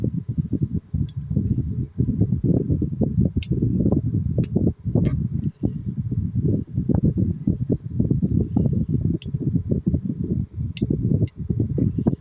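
An electric fan runs close to the microphone, a steady low whooshing rumble with slight fluttering pulses and occasional faint clicks, continuous throughout with no talking.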